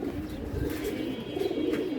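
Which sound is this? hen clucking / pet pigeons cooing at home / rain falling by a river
pet pigeons cooing at home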